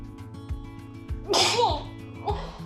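A woman sneezes once, sharply and close by, partway through the clip. A softer burst follows soon after, over a quiet, rhythmic background.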